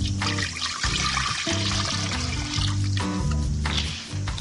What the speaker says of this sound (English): Okay, we pour the milk in